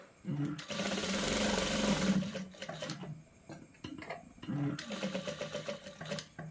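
A sewing machine runs in two bursts, stitching buttonholes on the front of a blouse, with quieter handling noises and soft clicks between the bursts, close and fairly quiet.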